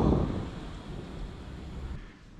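A thunderstorm with torrential rain, a dense continuous roar of downpour with a low rumble at the start, loud and close, with no one talking.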